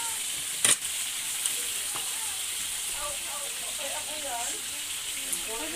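Garlic frying in a pan until brown, a steady high sizzle running throughout, with a sharp clatter near the start and faint voice-like murmurs mixed in the background.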